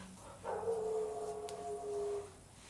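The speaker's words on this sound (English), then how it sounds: "There's my dog barking. I have a golden retriever." A golden retriever indoors gives one faint, drawn-out howling bark lasting about two seconds, heard from a distance in an otherwise quiet room.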